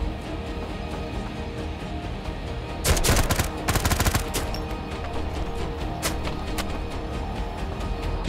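Shotgun fire in the video game Road to Vostok, heard as two quick clusters of loud, sharp blasts close together mid-clip, with a couple of fainter single shots afterward over steady ambient noise.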